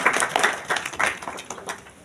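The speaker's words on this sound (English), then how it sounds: "Give them a big round of applause for Yes Kurmi." Applause from students and parents at a school result announcement for a top-ranked ninth-grade student: a modest, uneven patter of clapping that rises and falls in short bursts, fairly faint and sparse.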